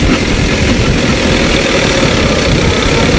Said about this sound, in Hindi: अभी जो मशीन चालू हो गई है, ये देखें, नूर वालों की थ्रेशर है 23 मॉडल।